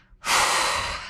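A single deep, breathy inhale during a mat workout, starting abruptly after a short quiet moment and holding steady, close to the microphone.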